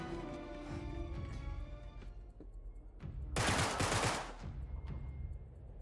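Gunfire in Uncharted 3 erupts in a dense, loud burst of rapid shots lasting about a second, set against a steady game soundscape of music and ambience before and after.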